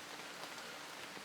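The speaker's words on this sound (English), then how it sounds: "it's raining quite heavily now" Heavy rain falls steadily through woodland at Loch Venachar in Scotland, a dense, even patter on leaves and ground with no voices.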